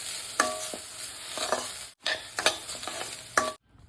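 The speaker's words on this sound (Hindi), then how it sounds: "बेसिकली इसको सिर्फ भूनना है" Laddu mixture being dry roasted in a pan, with repeated scraping stirs of a spatula and a light sizzle underneath. The strokes come in an uneven rhythm, close and clear, with no talking, before a brief cutoff at the end.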